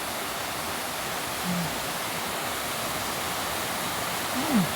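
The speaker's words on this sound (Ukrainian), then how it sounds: "тут сходяться дві якісь річки" Two rivers meeting at a confluence in the small town of Balingen give a faint, steady broadband rush of flowing water, continuous and distant, with no speech.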